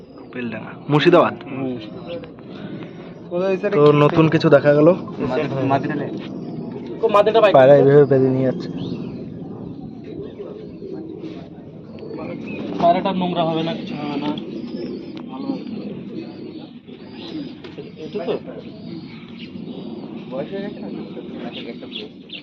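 Red-headed pigeons at a pigeon seller's coo throughout, mostly under steady conversation between several people, with low rolling calls filling the background.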